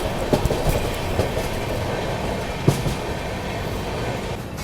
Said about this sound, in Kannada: ಶಾರ್ಟೆಸ್ಟ್ ಗೂಡ್ಸ್ ಟ್ರೈನ್ ನೋಡ್ರಿ ಇದು.